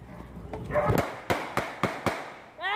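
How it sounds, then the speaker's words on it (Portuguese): Five sharp gunshot cracks ring out in a steady, quick sequence, echoing slightly and fairly loud over low background noise. "Olha o som dos tiros."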